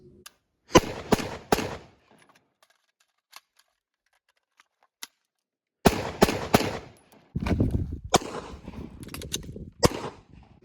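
Rifle fire while magazines are emptied, sharp close gunshots in quick clusters separated by silent gaps, with a louder, rougher string of shots and rattling toward the end.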